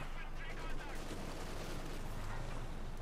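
Tank gunfire from a Panzer in the strategy video game Company of Heroes 2 forms a dense, continuous roar of battle with overlapping shots and blasts, loud and constant throughout.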